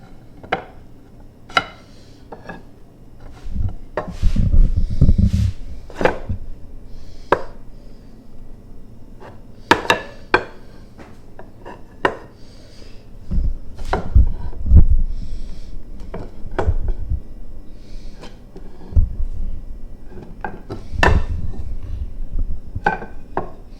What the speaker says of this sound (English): we're going to start to flip our pieces over where we want them and start putting this thing together